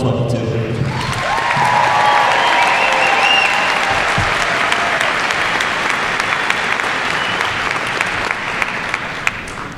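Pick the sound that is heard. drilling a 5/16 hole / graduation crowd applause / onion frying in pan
graduation crowd applause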